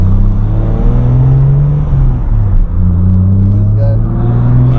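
A Toyota Supra engine drones loud and close with a steady low rumble and slight shifts in pitch, as if revving or cruising, from inside the car with the targa top off.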